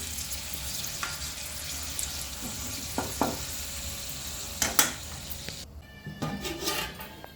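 Mint leaves and onions fry in hot oil in a pan for chicken dum biryani, a steady close sizzle with occasional sharp clinks and scrapes of stirring, ending in a brief hush before the sizzling resumes.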